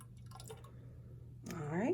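Hydrochloric acid, about ten milliliters, is poured into a gas collecting tube in a chemistry lab, giving a brief faint trickle and rising glassy gurgle near the end, set against a steady low hum.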